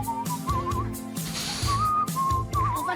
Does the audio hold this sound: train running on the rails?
no